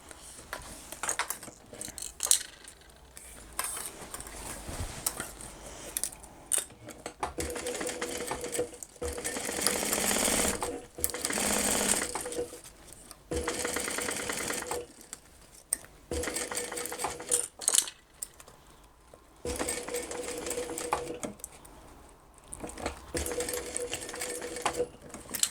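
Sewing machine stitching a cross-body purse for beginners, running in several bursts of rapid, even needle clatter separated by short pauses, loud and close with no talk over it.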